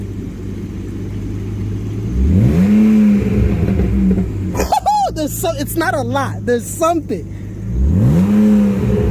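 A BMW E39 on a stage 2 tune revs with a deep exhaust drone, then pops and crackles in a burst of burble as the revs drop, before another rev. Someone talks briefly over it.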